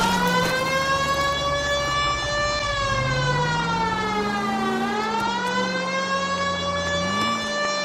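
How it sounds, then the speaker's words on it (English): A police car siren in the L.A. Noire video game wails loud and steady, its pitch sliding down and back up in long sweeps with no talking over it. "They might move if you use the siren belt."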